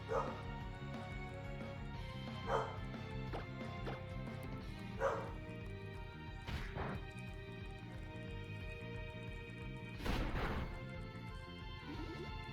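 A dog shut in her crate inside an apartment gives sharp, separate barks every few seconds over steady video game music, moderately loud and close by.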